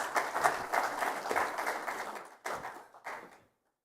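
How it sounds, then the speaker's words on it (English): An audience at a cybersecurity conference session claps in a moderate round of applause that breaks into a few short bursts before stopping abruptly. "Round of applause."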